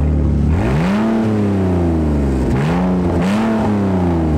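A car engine with a modified loud exhaust revs hard, rising and falling in pitch several times, close and rumbling, with no voices.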